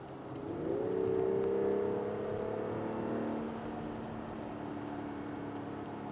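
Exhaust of a 2021 BMW X3 M40i in Sport Plus mode, a steady droning engine note that swells as the revs climb in the first seconds, then holds a sustained hum with no talk.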